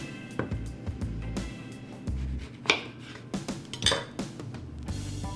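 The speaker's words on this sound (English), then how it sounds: "now we're gonna cut this in half and juice it" A knife taps and scrapes against a board as an orange is cut in half, then juicing follows with clinks and rubbing of a utensil or juicer against a dish, close and intermittent, with no voices.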